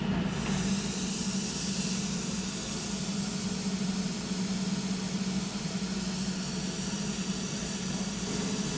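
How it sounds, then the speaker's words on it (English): Aeroseal sealant mist is blown through a house's ductwork, giving a steady, continuous broadband hiss with a low airflow rumble underneath, unchanging and sustained throughout, with no voices. "In a minute, you'll hear the mist start coming through the system."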